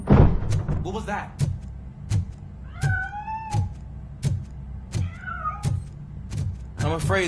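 A cat meows in RoboCop: Rogue City, a few rising-falling cries spread across the stretch, set among steady sharp game clicks and thumps.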